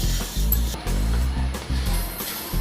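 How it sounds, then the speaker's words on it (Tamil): Whole urad dal roasts dry in a pan with a steady crackling sizzle and scraping stirs, interrupted by a few brief pauses. "இப்போ உளுந்து நல்லாவே வறுபட்டுருச்சுங்க"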